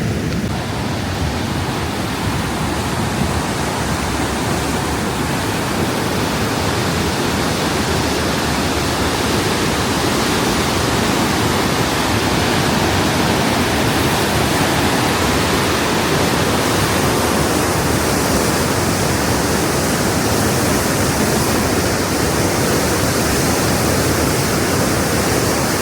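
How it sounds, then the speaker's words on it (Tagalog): A strong current rushes over a waterfall, making a loud, unbroken roar of falling and churning water that holds steady for the whole stretch, with no voices over it. "Sobrang lakas ng agos"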